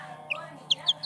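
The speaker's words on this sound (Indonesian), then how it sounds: "Ayam pun sangat berminat mau makan cabe." Chickens feeding on harvested chili peppers give several short, sharp clucks and chirps over a quiet low hum, close and fairly faint.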